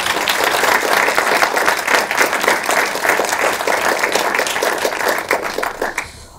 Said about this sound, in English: I would like to ask you for one more round of applause for our tremendous